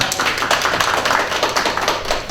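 A large audience applauds at a Korean public gathering, loud and steady dense clapping filling the whole span without talk.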